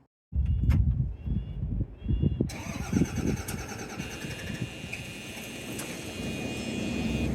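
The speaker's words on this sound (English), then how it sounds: "Fire up the engines and let's go." A motorhome engine cranks with a whirring starter for a couple of seconds, then catches and settles into a loud, steady rumbling idle.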